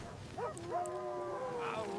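A bear in a narrated story gives a drawn-out, wavering howling roar with tonal rising and falling cries, moderately loud and alone, without any talk over it.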